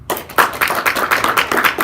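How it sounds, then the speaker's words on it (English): A small group of students at a presentation workshop claps on request, a loose, fairly close burst of individual hand claps with audible separate strikes rather than a dense roar. "What would a good, solid applause sound like?"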